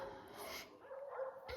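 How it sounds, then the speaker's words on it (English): A dog barks a few times in the distance, soft yips and bow-wows that are faint and brief over a quiet background. "even the dogs are barking at this statement"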